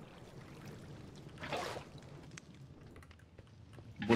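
Water being removed in the Minecraft video game while an automatic furnace is built, heard as a brief watery pouring whoosh that rises and fades amid faint clicking and low background noise.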